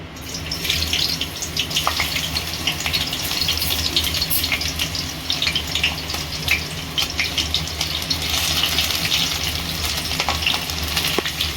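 Vegetables (capsicum, onion, carrot) sizzle and fry steadily in three tablespoons of hot oil in a home kitchen while making pasta, with continuous crackling and occasional stirring or clatter, loud and close, no talking.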